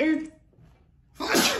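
A short, forceful sneeze bursts out close up right after a brief spoken word, following a moment of near silence.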